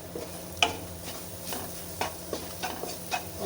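Goat tripe (boti) frying with homemade sambar powder over a low flame, a soft steady sizzle broken by intermittent stirring scrapes and taps in a quiet kitchen.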